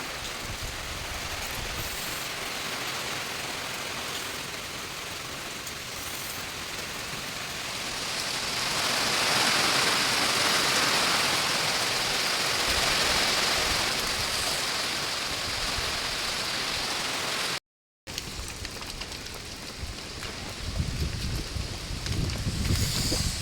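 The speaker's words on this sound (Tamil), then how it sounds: "அப்படி பார்த்தீங்க அப்படின்னா மழை ஸ்டார்ட் ஆகிடுச்சு" Steady rain pouring in the Idukki hills of Kerala, a dense continuous hiss that swells louder partway through, with no talk and a brief dropout before the downpour resumes.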